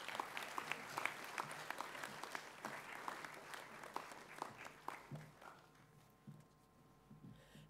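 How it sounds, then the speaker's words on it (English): Applause from a school awards audience for Year 8 Gold Level recipients, a dense, steady crowd clapping that rolls on for several seconds before thinning out toward the end. "could I have another huge round of applause for all Year 8 Gold Level recipients for 2022"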